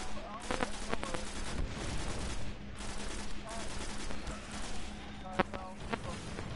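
Rapid video game gunfire crackles steadily throughout, dense repeated shots with a few sharper bursts near the end, while a voice talks over the shooting.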